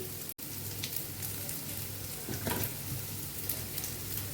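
Small chopped eggplant pieces go into rice already frying in a pan for a spinach ghonto, producing a faint, steady crackling sizzle with a few soft stirring clatters, no speech.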